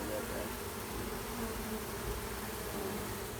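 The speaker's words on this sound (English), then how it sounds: "Ooh, there's a pollen bee. See that? You can see his yellow legs." Bees swarm around a beehive at an outdoor forest school, a dense, steady buzzing drone that fills the whole span at moderate loudness.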